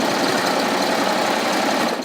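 A sewing machine stitches across a jeans hem with a loud, dense, unbroken mechanical buzz that tapers off at the very end.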